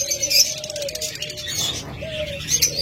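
Pet birds, a pair of lovebirds or similar cage birds, give shrill chirps and calls close by along with a low cooing tone.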